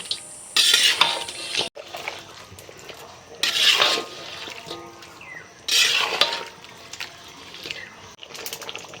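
Chicken is stirred with chili powder in a pan, with three separate bursts of scraping and sizzling a couple of seconds apart and quieter clatter between them.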